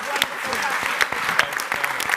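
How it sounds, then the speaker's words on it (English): A short burst of audience applause at a press conference, many hands clapping together at an even level. "a huge round of applause"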